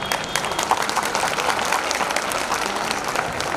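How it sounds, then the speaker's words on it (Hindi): A school annual day audience applauds with dense, sustained clapping that stays moderately loud and even throughout. "बस इतनी सी तालियां।"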